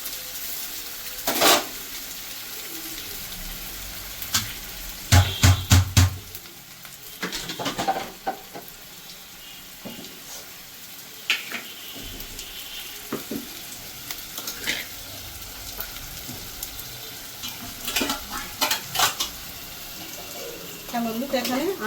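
Onions frying in a pan for a lote fish curry, with intermittent stirring clatter and bursts of sizzle over a steady low hiss, fairly close.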